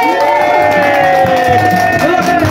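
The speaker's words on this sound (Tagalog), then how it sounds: "Hihingin ko yung sigawan yung palakpakan kay Mayor." A loud crowd at a birthday celebration shouts and cheers for the mayor, a dense, steady roar of voices close by throughout.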